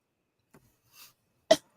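A single sharp, close cough bursts out loudly near the end, after a faint throaty catch and a soft breathy sound, with no talking around it.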